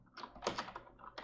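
Quick, light keystrokes on a computer keyboard as a short name is typed, several soft irregular taps close by and fairly quiet.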